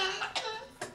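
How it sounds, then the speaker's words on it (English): A video game man coughs two or three short, sharp times in quick succession after drinking wine. "he took a drink of wine and he started coughing."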